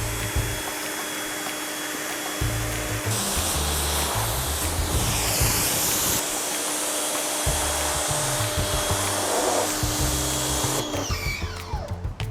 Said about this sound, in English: I'm going to pre-rinse the vehicle